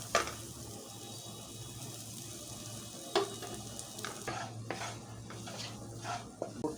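Spiced egg-roll filling frying and being stirred in a pan, a steady close sizzle with scattered scrapes and clinks of a utensil against the metal, no voices.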